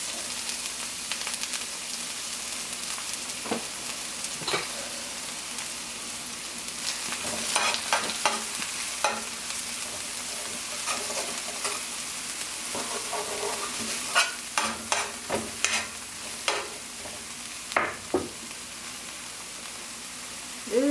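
Green onions sizzling in a pan over medium-low heat, a continuous close frying hiss with intermittent stirring scrapes and clicks growing busier toward the end.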